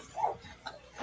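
A brief dog-like whimper or yip picked up on a player's microphone during an online game session, faint and distant, with a couple of short high bursts and no speech.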